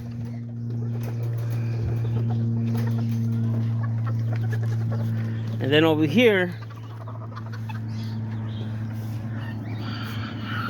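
Small backyard hens kept near a heating lamp cluck with short, nasal calls, one brief louder squawking burst in the middle over a steady electrical hum, while someone talks nearby.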